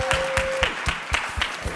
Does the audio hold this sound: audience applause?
yes